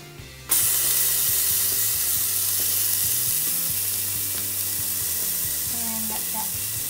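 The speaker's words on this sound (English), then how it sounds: "I'm gonna toss in my garlic." Garlic hits hot oil in a pot with a sudden loud sizzle that settles into a steady, bright frying hiss, close and continuous, with faint clinks near the end.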